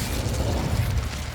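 The Incendio fire spell is cast in Hogwarts Legacy, heard as a loud, dense burst of rushing, crackling flame that roars steadily for just over a second.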